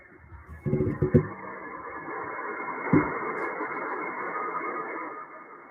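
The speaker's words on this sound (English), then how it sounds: "I don't know if you guys hear the CW or Morse code." Morse code tones received on a VHF/UHF radio during satellite listening, short beeping bursts over a hissing band of static, moderately loud with gaps between the keyed pulses.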